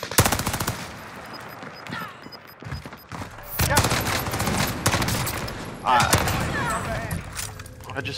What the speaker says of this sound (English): why are they shooting at me?